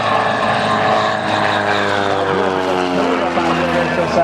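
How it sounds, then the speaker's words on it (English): A Super Decathlon aerobatic airplane drones steadily through a vertical climb at a practice airshow in Waukesha, Wisconsin, its propeller engine loud and continuous while someone narrates over it. "He'll climb the airplane vertically, and then, of all crazy things, he'll actually push the stick all the way forward and reverse course coming straight down."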